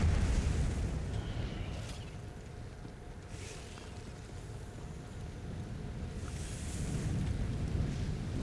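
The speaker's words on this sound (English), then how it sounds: "there's the wall of fire. And we'll start the next part. She's going to drop that fireball like that" A boss in a video game drops a fireball and raises a wall of fire, giving a continuous deep, roaring rumble that swells and eases, with fiery whooshes breaking through.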